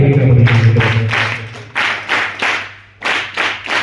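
An audience claps in bursts at a one-day music camp for eleven ashram schools in Gadat, with a steady low hum under it, short loud rounds of clapping separated by brief pauses.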